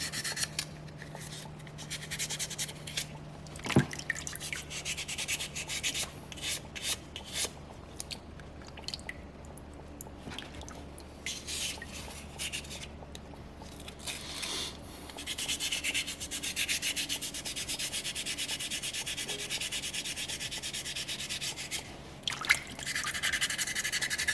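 Sandpaper rubs over a small soapstone orca carving, with repeated close scratchy strokes and brief pauses throughout, steady and fairly quiet.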